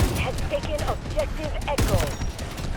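AKM rifle fire in the shooter Delta Force cracks out in rapid bursts of sharp shots, loud and close, with a few scattered impacts and game sounds layered around them.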